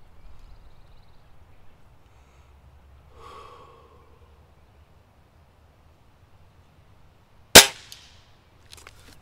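A single sharp crack from a Crosman Fury air rifle fired at a target 50 yards away, near and brief, standing out against quiet outdoor background with faint breathing earlier and a tiny distant tick afterward.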